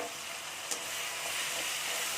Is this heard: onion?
yes